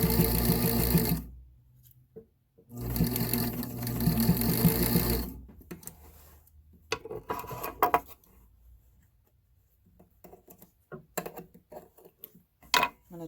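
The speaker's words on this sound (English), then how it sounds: "I'm just stitching like 1/4 inch on the very end." Sewing machine running in two short loud bursts, stitching about a quarter inch across the end of a fabric piece, followed by scattered quieter handling clicks and rustles.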